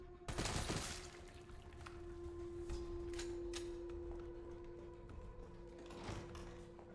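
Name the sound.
gunshots in video game Resident Evil 3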